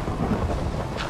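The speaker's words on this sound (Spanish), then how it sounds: "Menuda tormenta, tendré que cubrirme de alguna manera." A Minecraft thunderstorm rumbles with heavy rain in a short, dense, loud wash of noise that holds steady throughout.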